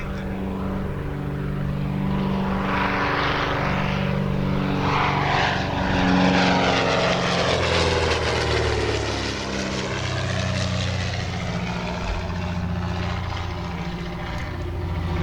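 A vintage propeller aeroplane passes at the Shuttleworth summer air show, its loud, continuous engine drone swelling and shifting pitch as it flies by overhead.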